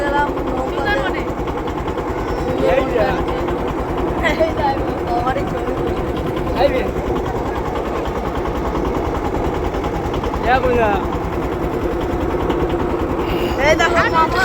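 Boat engine chugging on a river in the Sundarbans, a steady low rumbling throb running throughout, with people talking over it at intervals.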